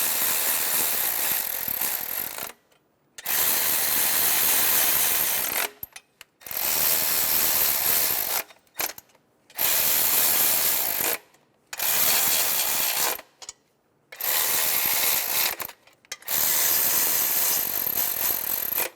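Ratchet wrench snugging down intake manifold bolts on a 2003-2007 Honda Accord 3.0L V6, heard as six loud, steady bursts of rapid clicking, each several seconds long, separated by short silent pauses.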